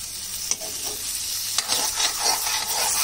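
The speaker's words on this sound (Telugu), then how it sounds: "మంచిగా ఫ్రై అవ్వాలి" Food frying in a pan with oil, a steady bright sizzle broken by a few sharp stirring scrapes and clinks, close and alone with no voices.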